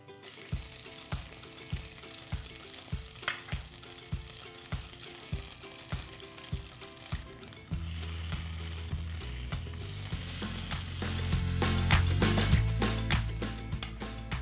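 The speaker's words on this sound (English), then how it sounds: "Hear that sizzle." Tofu sizzles and crackles in hot olive oil, joined midway by a louder, denser frying hiss; a rhythmic clicking ticks along in the first half.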